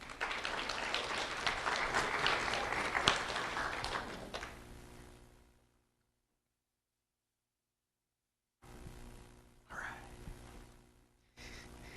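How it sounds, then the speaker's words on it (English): Audience applause for a student being honored at a sheriff's office recognition event, a dense wash of clapping that fades to silence midway, then brief bursts of sound return near the end. "Let's have a round of applause for Nicholas Krautner."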